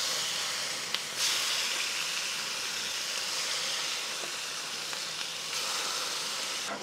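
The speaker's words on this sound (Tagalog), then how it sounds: "So, gigisahin lang natin siya." Pork pieces sauté with softened onions in a hot pan for pork menudo, giving a steady loud hiss and sizzle with a few small pops and a fresh surge near the start and end.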